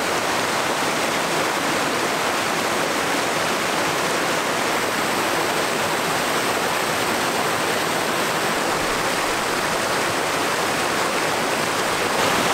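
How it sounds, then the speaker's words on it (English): Raging white water of a river cascade roars as a loud, steady, close wash of broadband rushing sound for the whole stretch, with no voices. "And there's raging white water coming"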